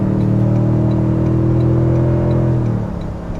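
A 2023 Toyota Tundra TRD Pro towing a load climbs an on-ramp at low speed, its engine giving a steady, loud drone that eases off near the end.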